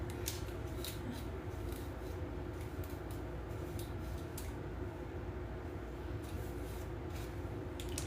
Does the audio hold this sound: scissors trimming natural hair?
yes